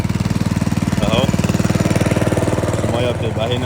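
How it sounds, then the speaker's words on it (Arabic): A motor-driven farm pump drawing water from a canal, a loud, close, rapid rhythmic engine chug that runs steadily throughout, with a voice briefly over it. "ده الموتور بقى اللي بالميه"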